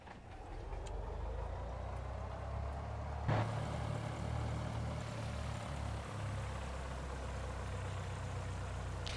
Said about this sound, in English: The engine seems ideally primed.